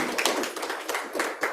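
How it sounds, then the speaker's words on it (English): Audience clapping at a Srimad Bhagavat Saptaham religious discourse, a brief burst of scattered hand claps with uneven rhythm, moderately close, no talk over it. "You can clap for the Lord."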